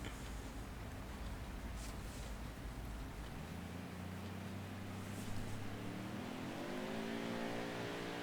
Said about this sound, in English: I do like watching the cars drive around really slow.